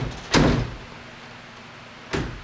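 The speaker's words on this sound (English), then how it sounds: "The strike plate lock installed on a door being hit with a 90-pound bag." Two loud, heavy thuds of a 90-pound bag striking a door fitted with a strike plate lock, a big booming impact followed by a second slightly softer hit about two seconds later.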